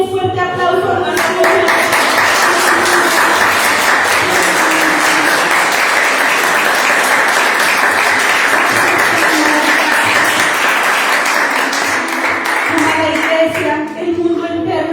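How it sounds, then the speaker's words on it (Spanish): A church congregation breaks into loud, sustained applause that fills the room, with a voice heard briefly at the start and end as the clapping swells and then dies down. "Por eso quiero que le den un fuerte aplauso a Dios"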